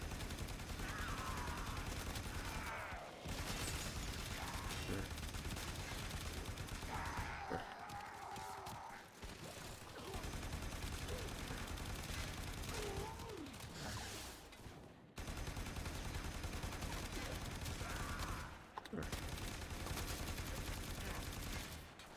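Rapid automatic fire from the Telos Boltor rifle in a Steel Path game mission, sustained bursts of loud, dense shots with brief pauses between volleys, thick with game effects.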